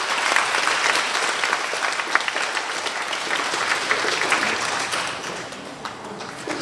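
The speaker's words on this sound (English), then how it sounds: "Please give KW a very big clap" A school award assembly audience applauds steadily, dense clapping filling the whole stretch and easing slightly toward the end, with no speech over it.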